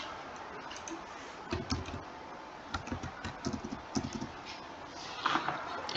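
Irregular bursts of keyboard typing, clicking keys in quick clusters with short pauses, close up over a faint background hiss.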